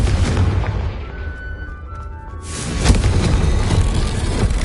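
Fiery blast of the Confringo spell in Hogwarts Legacy: a loud, rumbling explosion that swells after a brief lull and lingers with a deep, noisy roar.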